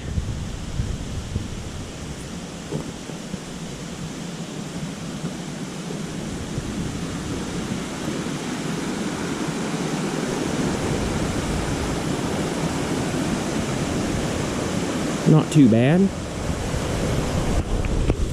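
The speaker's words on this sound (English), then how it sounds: "I can hear the water, so we're close." Steady, loud rushing of a flowing river along the Little River Trail fills the whole stretch, with wind buffeting the microphone and a brief spoken remark near the end.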